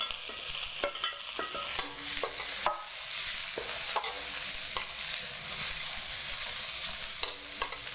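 Vegetables and chili being stir-fried for Indonesian glass noodles, a steady close sizzle broken by repeated scrapes and clacks of the spatula against the pan, no talking.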